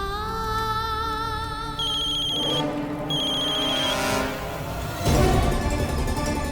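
A mobile phone rings with a bright, repeating electronic ringtone in clear tonal bursts, loud and close, with a brief gap before the melody resumes and a heavier thump near the end.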